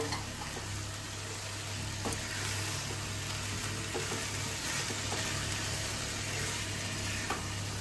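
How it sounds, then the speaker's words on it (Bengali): Eggplant frying in oil in a covered pan produces a steady, even sizzle and hiss with faint crackles, moderately close and continuous, with no talk. "এখন এর সাথে বেগুনটাও মিশিয়ে দিচ্ছি দিয়ে ভালো করে একটুখানি ঢেকে দেবো দু তিন মিনিট যতক্ষণ না তেলটা ছাড়ছে"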